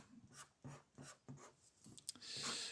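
A red pen scratches across paper in short, repeated strokes, close and quiet, with a brief rustle at the end.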